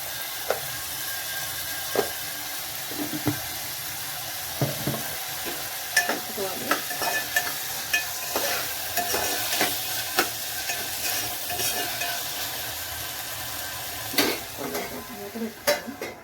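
A broad bean seed curry fries in a pan under constant sizzling, while a spatula stirs and scrapes in frequent light knocks throughout.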